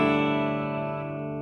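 Guitar played through a Positive Grid Spark 2 amp with reverb on, a sustained chord ringing out and slowly decaying into a washy tail, heard alone.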